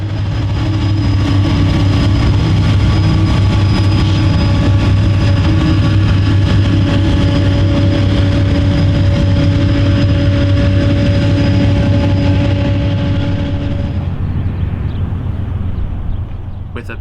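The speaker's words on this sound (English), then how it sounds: "With a pair of General Electric's Evolution Series locomotives, our next train at KEENESBURG would be a loaded coal drag." Loaded coal drag hauled by a pair of General Electric Evolution Series locomotives at Keenesburg, a loud, steady low engine roar with tonal whine and rail rumble throughout, easing slightly near the end.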